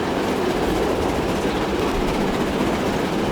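A Pullman train in Transport Fever 2 runs at high speed, a steady loud rumble of rolling wheels and rail noise that fills the whole stretch without pause.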